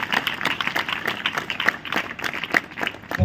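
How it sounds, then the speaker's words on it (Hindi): A congregation at a church revival gathering applauding loudly, with a dense, continuous burst of many hands clapping close together that fills the whole stretch with no pause. "ताली बजा के जोरदार प्रभु का धन्यवाद"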